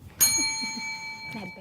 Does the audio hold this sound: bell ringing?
yes